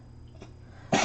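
A single sharp sneeze bursts out near the end, loud and close after a quiet stretch of faint room noise.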